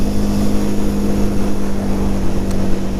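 A 2024 KTM Duke 390 motorcycle engine drones steadily while riding in third gear, a close, continuous buzzing hum with a strong low harmonic and wind rush, heard alone.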